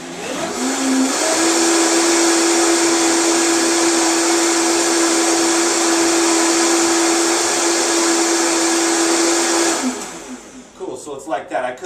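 A Vitamix blender runs continuously while blending carrot tomato soup, a loud, steady high-speed whirr with a constant motor whine that winds down and stops near the end.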